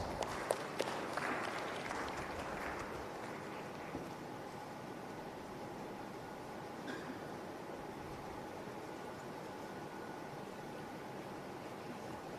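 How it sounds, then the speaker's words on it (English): Applause from a conference audience after a speaker is introduced at an ICT event, a few sharp claps at the start fading into a soft, steady patter that carries on faintly. "A round of applause, please."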